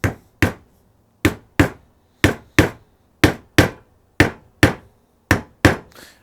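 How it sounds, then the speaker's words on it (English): A hammer drives a freshly made wooden wedge into an axe head: twelve sharp, close wooden knocks grouped in pairs, each ringing briefly before the next, with no talking. "I'm going to use my hammer again and just pound this softly in."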